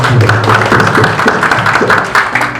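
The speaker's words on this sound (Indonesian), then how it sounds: "Mari kita tepuk tangan." A meeting audience at a regional leaders' gathering in Papua claps, loud and dense, with a few voices calling out under the applause.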